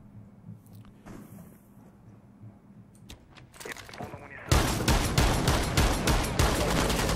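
Rainbow Six Siege gunfire opens quietly with scattered footsteps and small clicks, then bursts into a loud, sustained rapid volley of rifle shots in the second half.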